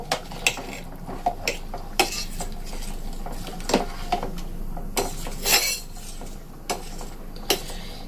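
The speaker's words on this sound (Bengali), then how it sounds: "এবার এগুলোকে আবার একটুখানি মিশিয়ে দেব।" Rice and water stirred in a metal pot with a spoon, giving sharp scattered clinks and scrapes against the pot over a soft background, with no talking.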